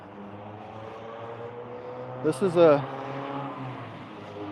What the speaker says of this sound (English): Such a loud car, huh?